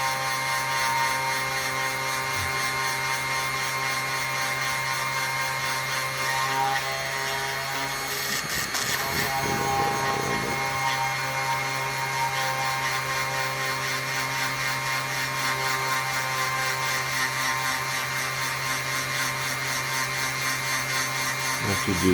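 A rotary drill boring holes through polished labradorite cabochons, a high steady whine that runs on for the full stretch with a brief rougher grinding patch partway through.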